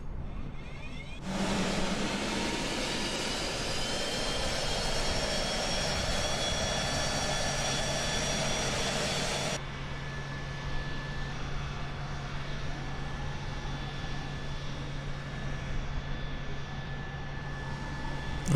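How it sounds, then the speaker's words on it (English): Phenom 100 business jet's right engine starting and running outside the aircraft in Microsoft Flight Simulator 2020: a loud, steady whining roar with a high tonal whine, then it settles into a quieter, even hum. "All right, we're going to go ahead and start our right engine."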